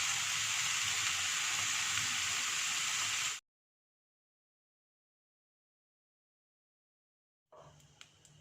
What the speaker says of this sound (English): While the bacon was frying